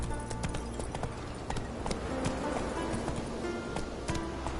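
Horse galloping in The Witcher 3 game, a steady run of hoof clip-clops over a dense, continuous game soundscape, fairly close and even in loudness throughout.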